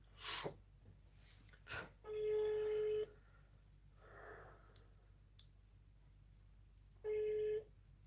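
A phone call being placed, with two steady ringback tones about a second long each, separated by a pause, preceded by faint clicks and handling noise.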